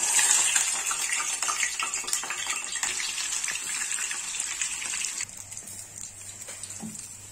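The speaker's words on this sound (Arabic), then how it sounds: "بصوا انا حطيت الكنافه في الزيت" Shrimp-filled kunafa pieces sizzle and crackle steadily in hot oil, a close, dense frying hiss that runs continuously and eases slightly near the end.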